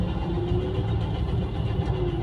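A car engine idles at a steady low rumble in stop-and-go traffic, a close, continuous hum with faint talk underneath.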